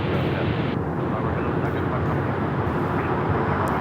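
Jet aircraft taking off from Los Angeles International Airport, a loud, steady broadband engine roar that holds for several seconds with no voices over it.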